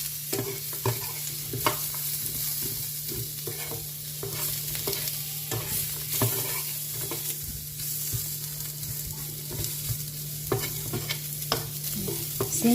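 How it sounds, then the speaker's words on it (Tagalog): Carrots stir-fried with garlic in a pan, steady close sizzle with frequent scraping and stirring clinks of a utensil throughout, alone without voices. "Just fry only with garlics and some seasoning."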